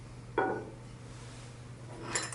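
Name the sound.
frosted white glass ceiling fan bowl being handled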